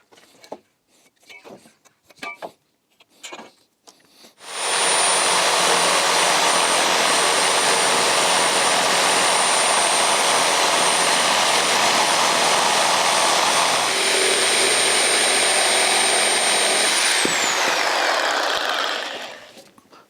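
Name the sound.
cutting old wooden beam to length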